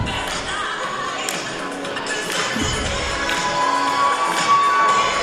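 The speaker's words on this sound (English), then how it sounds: "And now they're getting the fans to clap their hands." Basketball fans in a gym crowd cheer and clap during a halftime jump-rope show at a women's college game, a steady noisy roar with scattered claps and shouts throughout.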